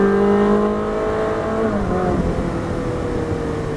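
A Ferrari 458 accelerates hard on the Dubai Autodrome race track, its engine note sweeping upward loud and close, then breaking into a rough, fluttering roar, continuous and with no talking.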